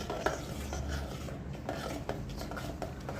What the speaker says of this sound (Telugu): ఈ విధంగా కలుపుకుంటూ ఉండాలి